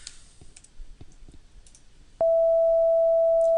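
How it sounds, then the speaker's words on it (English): A pure higher-pitched sine test tone cuts in abruptly after a few soft mouse and keyboard clicks, then holds steady and loud without change. "We hear a higher tone."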